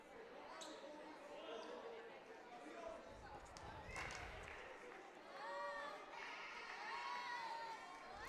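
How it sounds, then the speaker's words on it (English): A high school basketball crowd cheers and shouts during a free throw, a loud, steady swell of voices with shoe squeaks and ball bounces mixed in, rising near the end while a commentator talks over it. "Obviously, the crowd getting into it,"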